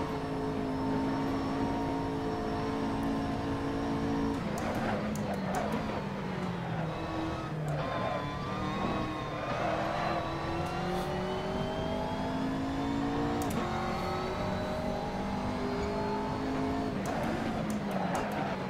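Simulated GT3 race cars lapping the Nordschleife in the Assetto Corsa racing game, engines droning and revving continuously with rising and falling pitch as gears shift, several cars close together, loud throughout with no talk.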